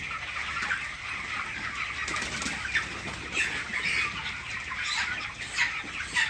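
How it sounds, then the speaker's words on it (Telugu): Chickens in a poultry shed holding about 1800 birds cluck and flap their wings in a steady, dense flock din, with no voices. "1800 కోళ్ళు"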